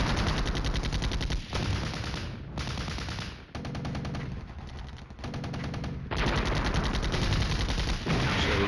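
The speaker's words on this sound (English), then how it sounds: "And here come the mortars." Mortar and gunfire crash in the Flashpoint Campaigns Red Storm war game as a loud, dense barrage of rapid blasts, broken by short pauses between volleys.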